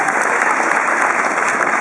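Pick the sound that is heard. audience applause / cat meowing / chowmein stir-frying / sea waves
audience applause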